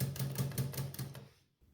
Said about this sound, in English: After this, you can move the carriage of the typewriter.